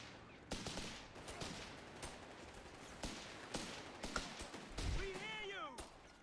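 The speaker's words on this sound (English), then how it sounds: "Ah, a grenade launcher." A grenade launcher fires amid a battle in the strategy video game Company of Heroes 3, with sharp, irregular bangs and bursts of gunfire cracking over constant background battle noise.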